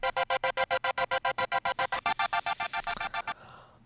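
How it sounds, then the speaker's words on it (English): Found sounds run through Ableton Live's auto pan, set for a rhythmic tremolo: a bright, dense texture chopped into about twenty regular, evenly spaced pulses, then fading into a soft tail. "So maybe I'll take Live's auto pan and I'll set this up in a way that we"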